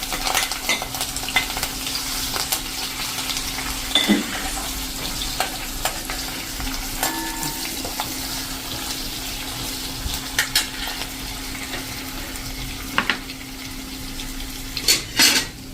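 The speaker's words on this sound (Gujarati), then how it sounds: "અને આપણે હવે આ મરચાંની કટકી અને લીમડાના પત્તા પણ નાખી દેશું" Chilli pieces and curry leaves sizzle in hot oil with a quiet continuous frying hiss, punctuated by occasional light clinks and scrapes of a spoon stirring in the pan.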